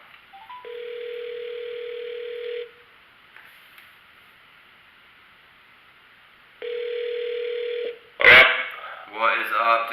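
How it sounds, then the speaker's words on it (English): Steady telephone dial tone hums twice with a silent gap between, while a call is placed, followed by a loud click and a brief bark-like burst of sound. "See if we can't get Bobby on the phone real quick"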